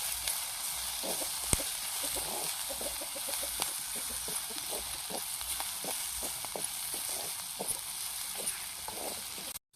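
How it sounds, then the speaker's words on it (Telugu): Onion, soaked chana dal and green chilies frying in a clay pot, village style, with a steady close sizzle and crackle and scattered small pops and stirring clicks throughout, no talking. "ఉల్లిగడ్డ, శనగపప్పు, పచ్చిమిరపకాయలు బాగా వేగాలి."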